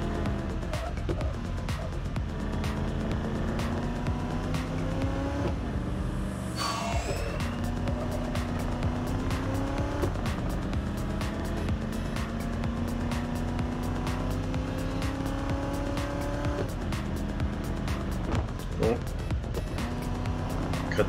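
Race car engine in the Real Racing Next mobile game, a loud continuous whine rising and falling through gear shifts, with a brief swooping squeal partway through and a steady buzz throughout.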